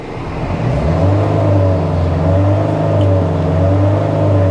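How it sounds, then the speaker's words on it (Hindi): A 2020 Mahindra Thar diesel with manual transmission revs at standstill, its engine rising from a low rumble to a loud, steady drone that holds without speech. "now we'll try to listen to the car's engine, just the NVH package"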